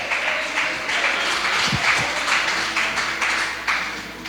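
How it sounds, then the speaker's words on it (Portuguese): Congregation applauding in praise for a woman about to preach at a church service, a steady wash of clapping held at an even level with a couple of louder low thumps near the middle. "Vamos aplaudir o Senhor pela vida dela"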